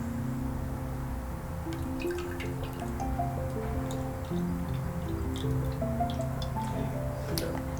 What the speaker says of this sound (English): we're going to go ahead and add a 1/2 cup of water, cold water, down the spout, and then the other 1/2 cup directly into the pot.